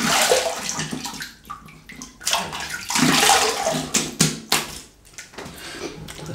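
Running water rinses a shaving brush under a tap, splashing and gurgling in irregular bursts with brief dips, close and fairly loud, with no talking.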